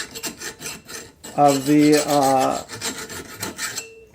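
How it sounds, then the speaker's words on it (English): A metal file rasps across the end of an M6 bolt on a mower repair, with a few scattered strokes followed by a run of rapid, loud back-and-forth strokes, then lighter scraping and a brief spoken bit. "So just filing that to get it easier."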